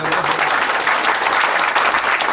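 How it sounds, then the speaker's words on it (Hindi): An audience in a hall at a jewellery shop opening claps loudly and continuously, a full, dense burst of applause filling the room. "इस हॉल को तालियों से गुंजा देना"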